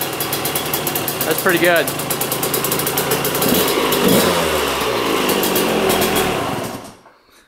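A 2-stroke dirt bike engine idles steadily up close with a crisp, buzzing note, rising briefly in short revs before cutting off near the end, while someone talks over it.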